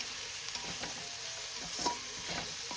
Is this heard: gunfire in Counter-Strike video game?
no